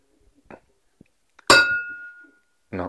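A glass gives one bright ringing clink with a ringing tail, set among faint small knocks and a short burst of voice at the end.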